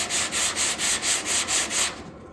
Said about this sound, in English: You want to listen to your sandpaper. It still feels really gritty.